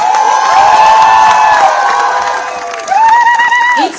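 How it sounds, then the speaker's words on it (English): A crowd cheers loudly at an Indian athletes' honouring event at India House during the Paris 2024 Olympics, sustained whoops and shouts with rising tonal calls, swelling again near the end. "Yes, she needs a round of loud cheer."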